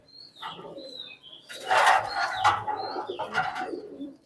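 Domestic pigeons in a loft coo repeatedly, their low throaty calls close and clear, joined by brief chirps and a louder burst of fluttering activity midway, with no talking.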